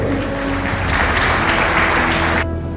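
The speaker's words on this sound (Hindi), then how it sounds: "डबल तालियों से इसका स्वागत करें" Applause from a crowd at a public gathering in Bihar, a dense, loud, steady wash of clapping that runs almost unbroken before cutting off abruptly near the end.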